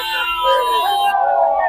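Ambulance siren wailing loud and close in a tone that rises and falls, carrying a body under Islamabad Police escort through a crowd, with people talking faintly beneath it.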